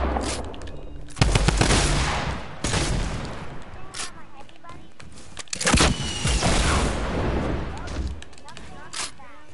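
Fortnite match gunfire comes in loud, close bursts of rapid shots and single heavy cracks with brief gaps between volleys, while a player talks over the action.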